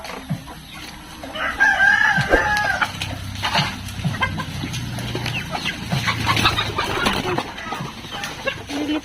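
Native chickens in a backyard coop crow and cluck, one drawn-out rooster crow rising early, then steady clucking and rustling from several birds close by.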